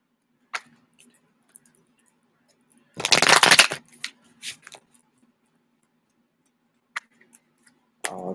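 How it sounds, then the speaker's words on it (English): Tarot cards are shuffled in one brief, dense riffle, framed by quiet taps and small handling noises in an otherwise still room. "All the shuffles."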